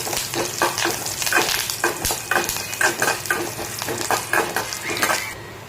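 Mustard seeds, chana dal and curry leaves crackle in hot oil, a steady loud close sizzle with rhythmic scraping stirs running throughout, with no talking.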